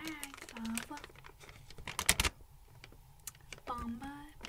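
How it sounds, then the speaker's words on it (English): Keyboard typing on a computer in a cozy quiet setting, a run of quick clicky taps and a louder burst of clatter near the middle, with a soft voice speaking at the start and end. "I'm going to be doing some typing sounds"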